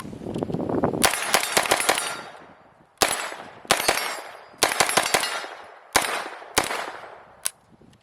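MP5 9mm delayed blowback carbine with a Knight's Armament handguard and A2 stock firing at an outdoor range: loud, close, rapid strings and short bursts of shots with ringing clangs, separated by brief pauses, with a dense rumble early on.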